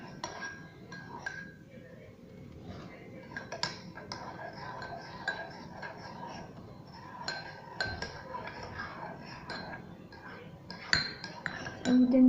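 Glue and slime being stirred in a container for orange slime, heard as faint clinks and light scraping taps of a utensil against the sides, quiet and irregular throughout.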